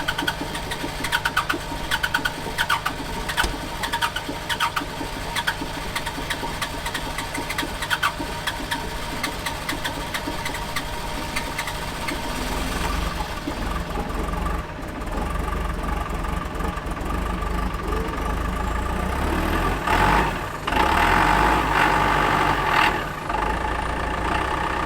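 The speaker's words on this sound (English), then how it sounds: "we're gonna fire up these machines" Construction machines on a job site are started and left to warm up, idling with a steady, rattling engine drone and mechanical clatter that thickens and grows louder near the end, with no talking over it.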